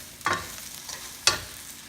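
Shiitake mushrooms cook with salt in a hot pan, giving a soft sizzle broken by two quick stirring scrapes about a second apart.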